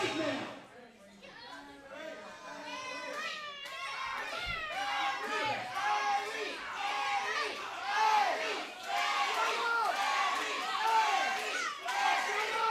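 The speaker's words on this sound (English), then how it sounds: "The crowd obviously behind Barry on this one." Wrestling crowd at a Rocket City Championship Wrestling show, a dense, steady roar of shouting and cheering voices that swells and stays loud throughout, with excited chatter layered in.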